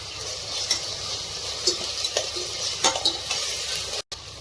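Ginger sizzles steadily in a pan as part of a mutton curry, with a constant hiss broken by a few light scrapes and stirs of a spoon, close by and with no talking.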